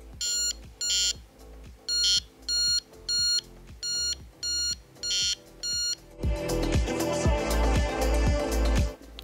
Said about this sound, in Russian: И когда полностью время выйдет, часы будут несколько раз звонить, что уже пора менять коробку противогаза.